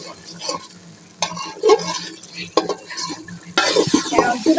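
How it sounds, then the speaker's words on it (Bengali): Spice paste being stirred and fried in a pan for bhuna khichuri, with repeated scraping strokes and a steady sizzle, close and fairly loud, occasional utensil clinks, no talking. "মশলাটা নেড়ে চেড়ে কষিয়ে"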